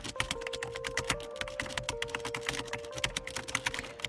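A command is typed on a computer keyboard in a rapid, steady run of close, crisp keystrokes that continue throughout over a faint background tone.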